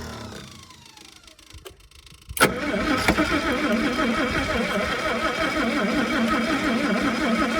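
A starter motor cranks an old engine that had seized after sitting for years, a quiet whirring first, then a sudden loud clunk and a steady, rough, rhythmic cranking churn that continues to the end.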